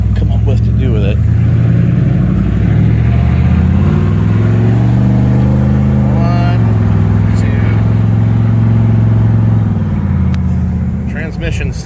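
1986 Oldsmobile Cutlass Salon V8 revving with a slipping transmission: a loud, close engine drone rises and falls in pitch, with someone talking over it.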